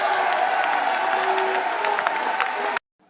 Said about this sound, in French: toute la salle qui applaudit